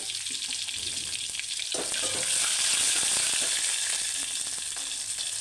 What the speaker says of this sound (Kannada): ಜೀರಿಗೆ ಸಾಸಿವೆ ಚಿಟ್ಬಿಡ್ತಾ ಇದೆ